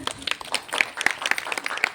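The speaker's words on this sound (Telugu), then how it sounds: "గట్టిగా చప్పట్లు కొడతారా?" Women at a Christmas prayer gathering clap loudly together, a dense, irregular patter of many hands that lasts the whole short stretch.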